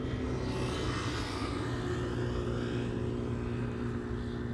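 A KLM airliner bound for Kilimanjaro, lined up on runway 18 Left at Amsterdam Schiphol, gives a steady, broad jet engine roar that holds at an even, fairly loud level throughout, with no talk.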